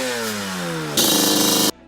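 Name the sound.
Yamaha Banshee two-stroke engine revving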